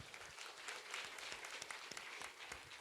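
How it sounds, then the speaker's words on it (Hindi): A crowd claps loudly and steadily at a church revival gathering in Tendubhantha, the dense applause holding without pause. "एक बार फिर से जोरदार ताली बजाओ"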